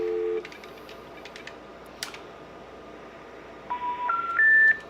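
A telephone keypad beeps through a series of DTMF dialing tones, a couple of brief beeps early on and then a quick rising run of tones at the end, clear and close with no talk.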